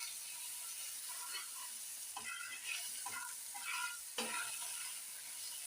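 Ground spices and chili powder frying in oil while being stirred, giving a soft continuous sizzle broken by a few scraping stir strokes, close but quiet, with no talking.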